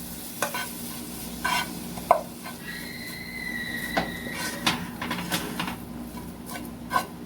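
A spoon stirring vanilla extract into a thick coconut filling in a pot, with irregular scraping and dabbing strokes, some sharp knocks and a faint background whine, close and fairly quiet with no voices.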